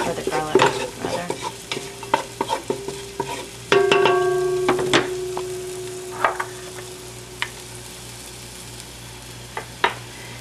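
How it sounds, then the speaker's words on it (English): Onion and garlic sizzle in a pan while a utensil stirs them, scraping and clacking against the metal in irregular strokes over a constant close frying hiss, busiest early on and thinning out later. "Just want to mix that around a little bit. You don't want the onion to burn in there, or the garlic, rather."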